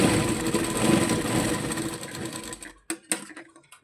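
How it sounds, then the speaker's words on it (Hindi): A sewing machine stitches a binding strip around a baby frock's neckline, its motor running in a steady close whir for over two seconds before stopping, followed by a few sharp clicks. "अब हम इस पट्टी को धीरे धीरे पूरे गले में सिलाई कर देंगे।"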